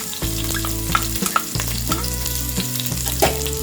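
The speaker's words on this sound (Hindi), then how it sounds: "ऑयल गर्म होते ही हम डालेंगे 3 green chillies finally chopped, 8 to 10 garlic pods crushed" Finely chopped green chilies and crushed garlic hit hot oil in a pan, giving a loud, steady frying sizzle with sharp crackles and spatters across the whole stretch, close and alone with no talk.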